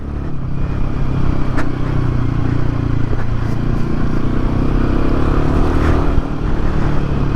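A loud 2024 Royal Enfield Himalayan motorcycle engine rumbles steadily at low revs, running oddly low in the rev range, with a deep throbbing drone and faint mechanical clatter throughout.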